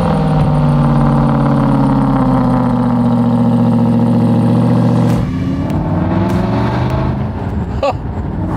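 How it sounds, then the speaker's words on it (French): An Aston Martin engine holds a loud, steady close-up idle drone, then drops off abruptly partway through to a rougher, lower running note with brief clicks and knocks, no voices heard. "Je suis actuellement dans l'Aston Martin du petit concours des 20 bolides à gagner. Et elle chante."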